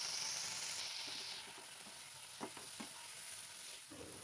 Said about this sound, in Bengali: এবার সামান্য চামচে করে জল দিচ্ছি মটরশুঁটিগুলো ভালোভাবে সেদ্ধ করার জন্যে।